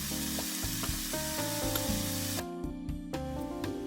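Chopped vegetables sizzling in a pan for a vegan spaghetti sauce, a bright continuous hiss and crackle with a steady hum beneath, briefly dipping midway before resuming, with no talking.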